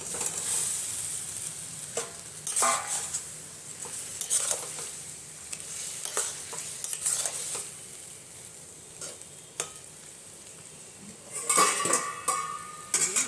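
Fried pointed gourd pieces tip into a pan of hot oil and are stirred, giving a steady low sizzle broken by repeated scrapes and clinks of a spatula on metal, close up, no talk.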